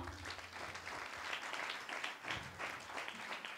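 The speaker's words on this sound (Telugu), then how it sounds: "అందరం ఒకసారి చప్పట్లు కొడదామా?" Audience applause fills a church watchnight service, a steady wash of many hands clapping throughout at moderate distance, fairly faint and continuous without pause.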